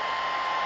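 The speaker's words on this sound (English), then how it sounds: "I'm going to dry it with a hairdryer" A hair dryer blows over a pen and watercolour landscape painting, giving a steady, close, even whir with a strong motor hum and no talk.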